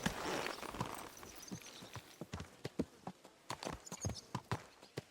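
Horse hooves clip-clop in the video game Kingdom Come: Deliverance 2, a steady run of sharp, fairly close footfalls that start after a brief noisy stretch and continue at an even walking rhythm.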